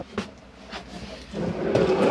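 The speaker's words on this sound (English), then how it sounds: "cutlery drawer" A cutlery drawer in the kitchen of an Auto Trail V-Line 610 motorhome slides open, heard as a few short close knocks and clicks followed by a rising rolling scrape.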